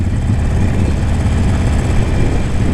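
A Harley-Davidson Sportster 48 Special's engine runs with a loud, steady low rumble, heard close and alone, likely while riding, with wind noise mixed in.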